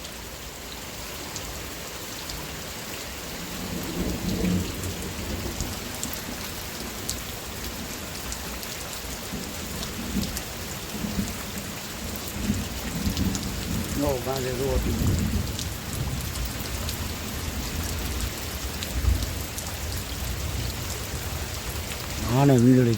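Heavy night rain pours steadily throughout, with low thunder rumbles rolling in and a louder crack near the end, while a voice talks intermittently over the downpour.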